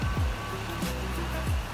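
The Rangeet river rushes past a riverside night campsite as a constant broadband roar of flowing water, loud and steady throughout, with no talking.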